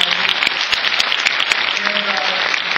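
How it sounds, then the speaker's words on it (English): Forum audience at an East African community event breaks into applause, a brisk, dense run of many individual claps sounding loud and near, holding steady without any speaking over it. "That's worth an applause."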